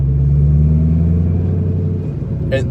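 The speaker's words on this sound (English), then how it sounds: "But the crackles coming even out of second gear, the car just sounds insane." A 2006 Ford GT engine with a muffler delete rumbles low and steady, then drops off as a brief sharp crackle pops near the end.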